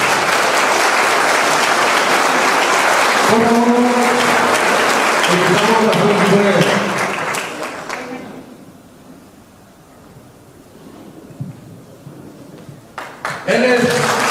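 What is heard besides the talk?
audience applause for a pastor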